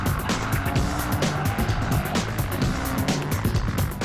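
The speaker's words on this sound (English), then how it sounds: "It's fun to drive the Ferrari in the wet." A Ferrari 575M Maranello driven hard on a wet road, its engine roaring steadily close by with tyres hissing and squealing over a continuous rumble.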